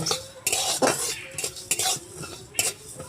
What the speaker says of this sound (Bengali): এর মধ্যে আমি এই মশলাগুলো সব দিয়ে দেব দিয়ে অল্প করে একটু ভেজে নেব